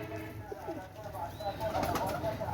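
Soft cooing comes from pigeons in a fancier's loft of Pakistani and Oman breed pairs. Low, rolling calls swell toward the end over a busy background, with faint human sounds mixed in.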